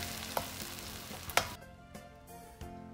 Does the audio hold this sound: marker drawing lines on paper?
no